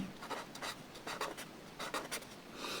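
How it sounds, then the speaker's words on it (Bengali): A pen writes and scratches out numbers on paper during a class 5 multiplication lesson, with quiet rapid scribbling strokes in short bursts, close and soft. "আমি কেটে দিই, ভালো করে লিখি"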